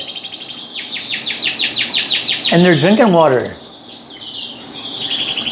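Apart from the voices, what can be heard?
young birds in a fly cage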